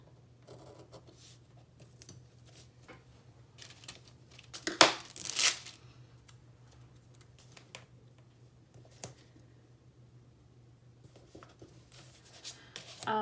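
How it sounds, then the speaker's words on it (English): Trimming the end off a paper planner sticker: faint, quiet rustling and soft scratchy handling, with a couple of brief louder crisp snips or crinkles near the middle over a low steady hum. "So I can just get this and trim off that end."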